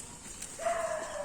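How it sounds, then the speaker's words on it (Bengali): At night near a river, a dog gives a single short, whining yelp at moderate distance, rising briefly above a quiet background hiss. "চারিদিকে কুকুরগুলো মানে একদম অস্থির হয়ে আছে, অস্থির।"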